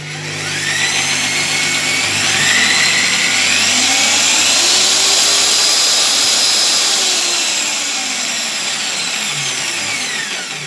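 An electric drill converted into an ER32 collet holder for a lathe runs under speed regulation, its high whine climbing as it speeds up, holding steady, then easing back down, loud and close with no talking.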